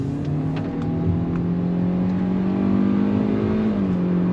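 A 2023 Hyundai Verna with a 1.5-litre naturally aspirated engine and CVT gearbox pulls away from a launch, a loud close engine drone rising smoothly and steadily without shift breaks.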